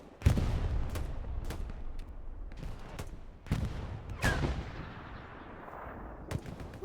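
Gunfire in the World War II shooter Hell Let Loose during a competitive match: repeated sharp rifle and artillery-like reports, some near and loud, others distant, spaced irregularly over a steady rumbling battlefield background.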